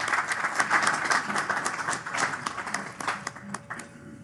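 Applause fills a Rotary club meeting room, a steady wash of many hands clapping up close that gradually thins out toward the end.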